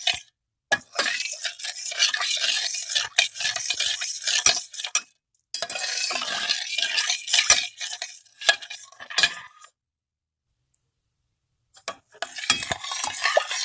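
A spoon stirs sugar and water into syrup for jalebi in a pot. Scraping swirls and light clinks come in bursts, broken by short pauses and a longer gap near the end, with no voices.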